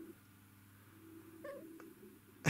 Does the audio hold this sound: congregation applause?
no